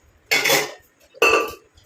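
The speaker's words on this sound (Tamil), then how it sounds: "இந்த மாதிரி ஒரு இரும்பு பாத்திரம் எடுத்துக்கோங்க" An iron pot clanks and scrapes twice in quick succession, two bright metallic knocks with a short ringing decay, close by and loud with no talk.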